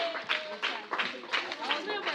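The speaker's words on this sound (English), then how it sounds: "kudos to a round of applause for Miss Dami" A group of classmates at a school assembly debate practice gives a round of applause, with bursts of clapping and chatter pulsing in uneven waves over a couple of seconds.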